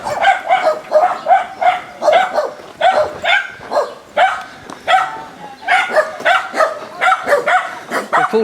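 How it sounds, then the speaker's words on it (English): Small dogs bark rapidly and persistently close by on a countryside walk, a dense run of sharp, high yaps with brief pauses between bursts. "Mouthy dogs."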